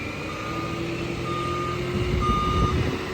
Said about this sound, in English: flip on the PTO there and operate our lift here